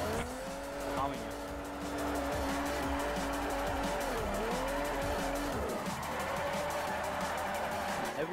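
Mercedes-Benz C63 AMG drifting in Forza 4, tires squealing in long wavering screeches over a revving engine, with people talking throughout.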